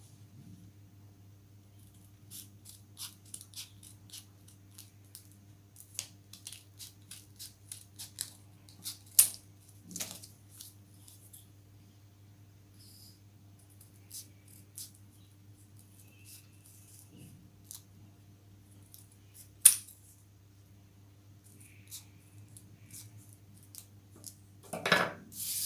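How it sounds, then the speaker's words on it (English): Scissors snip through folded paper while cutting out a snowflake craft, a scattered run of quiet, crisp cuts over a steady low hum, with a few louder snips standing out. "Now just do cutting."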